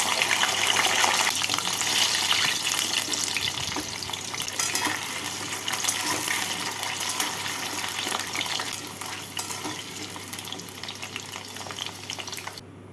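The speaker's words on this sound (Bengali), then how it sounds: "এভাবে বাকি গাঠি কচুগুলোকেও ভেজে নিচ্ছি।" Taro pieces frying in hot oil, a continuous bright sizzle and crackle holding steady throughout, close and fairly loud, easing slightly in the latter half with no voices.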